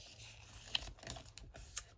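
Small pieces of paper from a junk journal kit are lined up and folded close by, giving soft papery rustles and light crinkling taps in a brief, quiet sequence.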